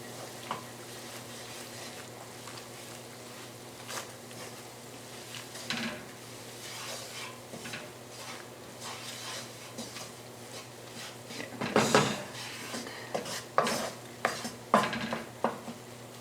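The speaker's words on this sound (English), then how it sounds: "Now we're gonna fry this flour here." Flour frying in oil in a pan for Croatian stuffed peppers, with a spoon stirring and scraping against the pan under a soft sizzle and clinks of metal, growing busier and louder toward the end.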